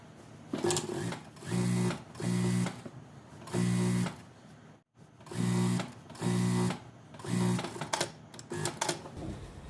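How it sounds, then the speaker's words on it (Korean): A sewing machine runs a 0.5 topstitch around a gathered skirt, starting from the side seam, in six or seven steady bursts of about a second each with short pauses between, near and loud with no talk. "위로 보내서 스티치 한 번입니다"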